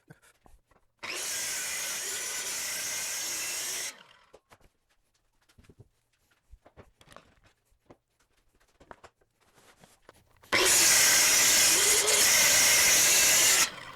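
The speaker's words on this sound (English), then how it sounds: "I'm going to use my track saw to cut 7-inch strips from full sheet of plywood." A track saw rips a full sheet of AC plywood into strips: two loud, steady whining cuts of about three seconds each, separated by quiet handling clicks and shuffling of the sheet and tool.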